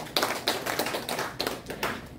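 Applause from an audience at a calligraphy exhibition opening in a gallery in Insadong, Seoul, as a guest is introduced: steady, moderately close clapping from a modest crowd with individual sharp claps standing out, no voices over it.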